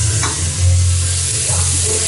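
Onions fry in a hot pan with a loud, steady hiss and crackle, close up, with a low hum beneath and occasional stirring scrapes.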